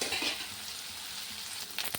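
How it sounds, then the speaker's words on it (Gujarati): Okra frying in hot oil, a steady close sizzle with crackling bursts near the end, no voices. "ભીંડા તળાઈ જશે તેલમાં સરસ મજાના તો આપણે એને પહેલાં તળી લઈશું"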